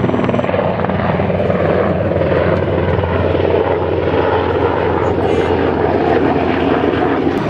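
A helicopter over a harbor gives a loud, continuous rotor and engine drone that fills the clip without letting up.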